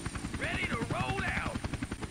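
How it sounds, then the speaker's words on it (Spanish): Helicopter in a Trump simulator video game, a steady rhythmic rotor chop running throughout with game sounds and effects layered over it. "¡Oh! Un helicóptero. Me montaré en él."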